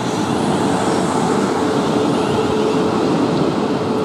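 A steady, loud rumble of a South Western Railway passenger train passing Brookwood station fills the whole stretch, with continuous low-frequency roar and broadband rushing noise, no voices.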